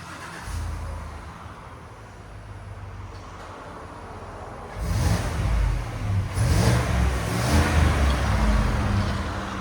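Stock exhaust on a 2019 Cadillac Escalade with a 6.2-liter V8: a low idle rumble at first, then repeated revs swelling loud and deep from about the midpoint onward, close by with no talk.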